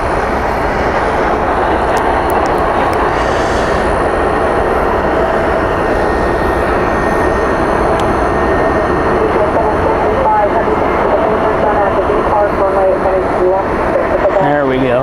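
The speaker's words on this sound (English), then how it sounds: "Clear for takeoff for this one" Jet airliner taking off at night at Dallas Fort Worth airport, a loud continuous engine roar filling the whole stretch at a distance, with people talking over it.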